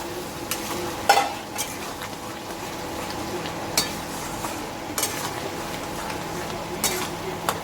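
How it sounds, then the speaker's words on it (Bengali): Potatoes sautéing in oil in a pan for Kashmiri aloo dum, a steady low sizzle and fry with occasional louder scrapes and clinks of a spoon stirring against the pan. "এটাকে এবার আমি কষবো। এর মধ্যে এবার আমি আলুটা ঢেলে দেবো"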